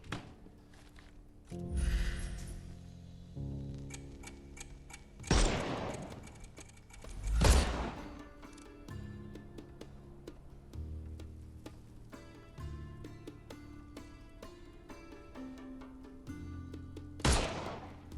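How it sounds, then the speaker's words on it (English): Gunshots fired at bottles in the Sherlock Holmes Chapter One video game: a few loud, sharp broadband cracks spaced several seconds apart over a tonal game music bed, with no talking. "Okay, so now we got to shoot the bottles."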